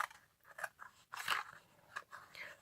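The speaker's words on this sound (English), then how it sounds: "I will just use my scissors here" Scissors snip through stiff card in short crunchy cuts, several quick strokes close up and fairly quiet.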